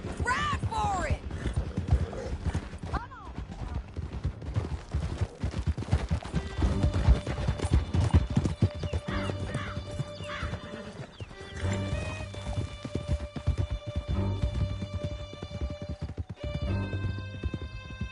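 Horses gallop with steady clip-clop hoofbeats in Red Dead Redemption 2, joined by neighing, shouting voices, and music, with scattered gunfire during a canyon chase.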